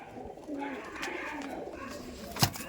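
Giribaj pigeons give soft, low coos close by in a quiet loft, interrupted by a brief sharp knock near the end.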